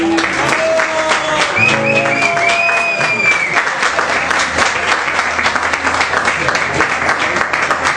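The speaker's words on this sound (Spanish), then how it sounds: "Un aplauso para César, por favor" A crowd applauds steadily for the whole stretch, dense clapping with a brief tonal sound and some faint voices early on.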